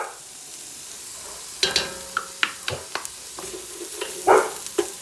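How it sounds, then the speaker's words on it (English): Crushed garlic and browning onions sautéing in a pan give a low, quiet sizzle, then a run of sharp clicks and scrapes from stirring, close and without talk. "The onions are just starting to brown. We want to add in"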